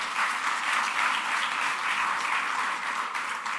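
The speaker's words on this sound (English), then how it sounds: "Let us have a big round of applause for Miss Valentina" An audience at an ICAI Dubai Chapter career event applauds, a dense steady wash of many hands clapping together, sustained and even throughout with no voices standing out.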